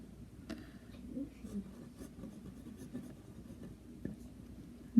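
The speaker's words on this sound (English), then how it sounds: "You can probably hear it has a bit of toothiness to the nib." A 21 karat gold hard medium fine fountain pen nib scratching across paper in short, faint strokes with a slightly toothy, papery texture, close and quiet.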